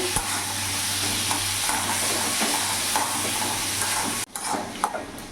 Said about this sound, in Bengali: ভালো ভালো করে কষিয়ে নেবো যতক্ষণ না মশলা থেকে তেল ছেড়ে দিচ্ছে